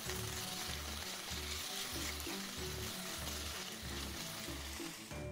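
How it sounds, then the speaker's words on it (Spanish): Chicken pieces fry in a generous splash of olive oil with salt and pepper over high heat, giving a steady, dense sizzle with no talking. "añadimos un buen chorrito de aceite de oliva, añadimos el pollo y un pellizco de sal y pimienta"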